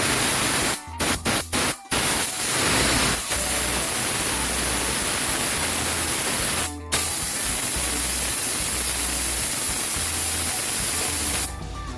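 Compressed air from an H&L oilless 30-litre compressor hisses loudly and continuously through a duster at about 60 psi, with a few quick bursts at the start and a brief pause midway.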